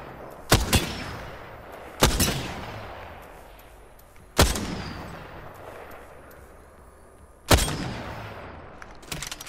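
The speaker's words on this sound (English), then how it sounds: "I am taking fire, friends." Gunfire in the video game Apex Legends during a sniper shootout: four loud, separate heavy shots spaced a couple of seconds apart, each with a long booming decay, and no voices.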